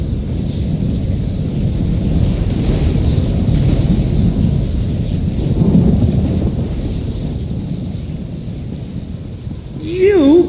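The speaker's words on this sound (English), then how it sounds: "Now you get the lightning!" Lightning spell thunder in The Elder Scrolls Online, a loud sustained rumbling crash with rain-like hiss lasting many seconds, ending with a brief voice.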